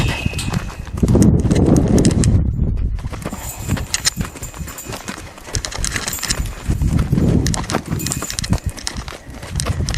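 Horse hooves clip-clopping steadily over a noisy background, a continuous rhythm of hoof strikes with no voices.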